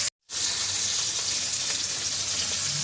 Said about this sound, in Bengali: এবারে আমি রসুন আর পেঁয়াজ একসঙ্গে ভালো করে ভেজে নেব।